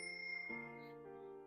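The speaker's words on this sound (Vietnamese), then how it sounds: "Mình vừa phải bấm chuông để mấy con ngan tránh đường không tông phải nó mất." A bicycle bell is rung twice in quick succession on a canal-side bike path between Nijmegen and Arnhem, giving clear close metallic dings that ring on and fade, with no talking.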